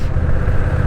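A Honda Rebel 1100 DCT cruiser motorcycle's engine rumbles on the move, a brief loud, deep and steady throb close to the microphone.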